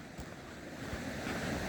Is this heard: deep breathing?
no